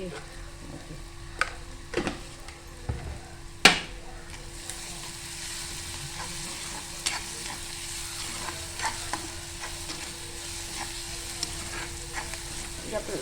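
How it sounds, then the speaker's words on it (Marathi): Onions fry with salt in a pan for a prawn dish, a steady sizzle running throughout while a utensil scrapes and stirs in scattered clicks, with a few sharper knocks early on. "मीठ घालते कांदा लवकर होईल ना कांदा लवकर होण्यासाठी थोडंसं आपण मीठ टाकत होतो"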